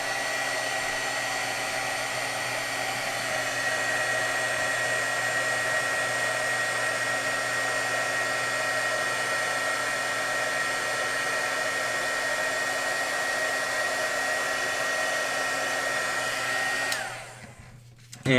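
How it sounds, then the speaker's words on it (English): A heat tool blows a steady, loud whooshing hum while setting embossing powder on a craft project, running continuously for many seconds before clicking off. "So I'm going to heat set this."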